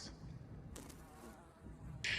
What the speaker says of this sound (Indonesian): Di sini Wesley diperintahkan untuk menembak sayap 2 ekor lalat dan jangan sampai membunuhnya.